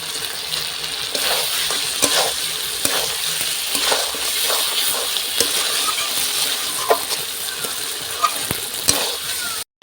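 Chicken and broccoli sauté in a hot pan with a steady, close sizzle, broken by frequent scraping stirs and small metallic clinks of a utensil against the pan; no voices.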